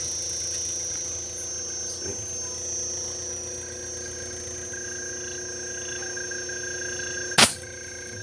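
Steady hum of a Daikin split inverter air conditioner's compressor running after repair, with stable tonal whine and a brief sharp click near the end.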